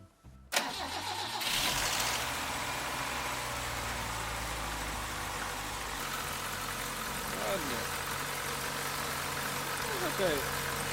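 A Polonez car engine cranks and catches after about half a second, then settles into a steady, close idle that carries on to the end. Brief voices come through faintly near the start.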